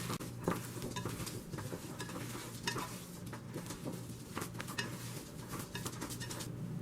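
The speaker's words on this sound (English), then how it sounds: "It's easier to mix with your hands." Hands mash and squish a chickpea and black bean veggie burger mixture in a bowl, giving soft, continuous wet kneading with small scraping taps, quiet and close, with faint birdsong in the background.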